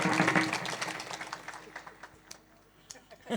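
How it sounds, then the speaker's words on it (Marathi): A village crowd at a kirtan gathering in Sirshi, Latur claps for the local children, a dense burst of hand claps that thins into scattered claps with voices mixed in. "एकदा टाळ्या वाजव बरं लेकरासाठी जोरात"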